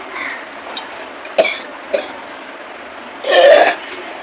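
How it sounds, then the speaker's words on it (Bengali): Several dry coughs, two short ones followed by a longer, harsher bout, close to the microphone against a steady background hiss. "কথা বললেই কাশি হচ্ছে"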